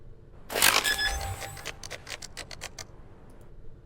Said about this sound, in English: We got the bomb placement sound from Counter-Strike.